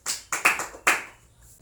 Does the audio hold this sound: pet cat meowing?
no